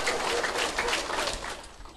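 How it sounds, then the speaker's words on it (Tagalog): A burst of enthusiastic crowd applause in a hall at a Filipino business event, dense and fairly loud, slowly thinning over a couple of seconds with no talking. "Sobra-sobra kayo pumalakpak"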